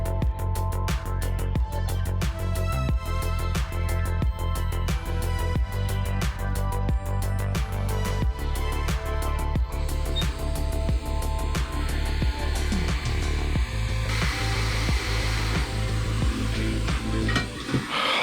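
A hot air rework station blows heat onto a webcam circuit board, a continuous airy hiss running throughout beneath steady rhythmic clicking and ticking, near and moderately loud.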